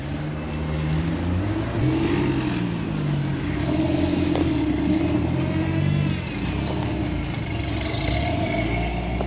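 A four-wheel-steering off-road crawler buggy's engine revs steadily as it climbs a rocky OHV trail, a close, continuous mid-pitched drone that rises and falls slightly with throttle, with no talk.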